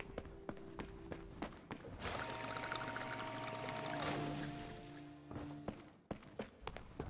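A water sprayer pours and splashes for a few seconds while cleaning in the crime-scene video game Crime Scene Cleaner, between soft game footsteps and taps.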